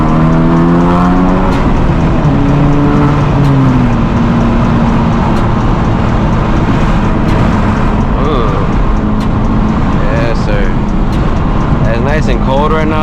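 Steady turbocharged engine drone from a Honda Civic Type R driven at night, heard from inside the cabin with constant road and wind roar and a few rising and falling engine pitch sweeps.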